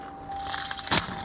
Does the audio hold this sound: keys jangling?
yes